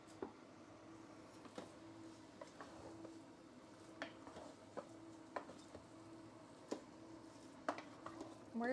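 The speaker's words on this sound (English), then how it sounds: "We're just sauteing this turkey" Turkey sautés in a pan with a steady low background broken by scattered clicks and scrapes of stirring, fairly faint and close, with no talking.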